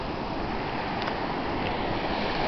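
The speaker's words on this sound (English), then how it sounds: "There are actual waves!" Ocean waves wash steadily at a beach, a dense, continuous rushing roar close to the microphone with some wind buffeting and no talk.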